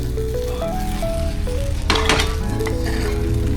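Food sizzles and bubbles steadily in a hot earthenware ttukbaegi pot, with a brief burst of crackling and stirring midway, under a melodic tune playing throughout.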